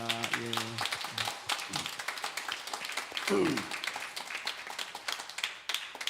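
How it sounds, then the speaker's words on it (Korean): Applause from a church congregation at a Sunday service, cheering on the Sunday school students and young adults: a steady patter of many hands clapping throughout, with voices speaking over the start and again near the middle. "우리 주일학교 학생 청년 우리 박수로 한번 격려하겠습니다."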